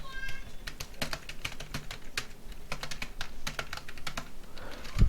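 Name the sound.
typing code on a computer keyboard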